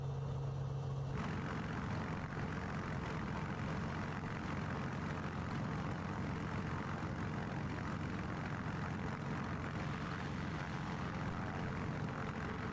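An AI-flown airliner landing on a lit runway at night in a flight simulator, a continuous steady engine drone at even loudness throughout.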